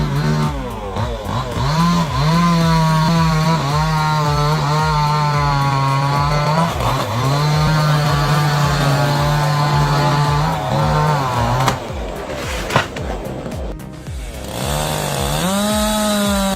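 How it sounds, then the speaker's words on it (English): A refurbished Husqvarna 371XP chainsaw runs loud and close, holding a steady high whine with rising and falling revs throughout. "This refurbished Husqvarna 371XP still bites like new, fires up fast, slices through hardwood like it's nothing, and hums with pro-level torque."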